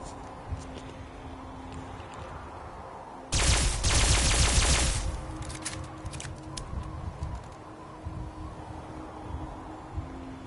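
A single loud burst of rapid weapon fire lasting about two seconds in Fallout 4 stands out against a quiet outdoor ambience with faint bird calls, and the fire fades into a softer tail.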